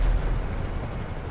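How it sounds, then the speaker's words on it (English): FH-1 Hunter helicopter in GTA V flying steadily, a dense, continuous rotor and engine roar with a faint rhythmic blade chop, loud and close with no talk over it. "I believe this has got to be my newest favorite helicopter."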